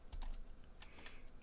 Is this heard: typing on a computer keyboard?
yes